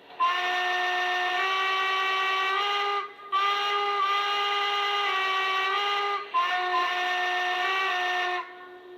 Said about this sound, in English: First off, here's the quillable whistle.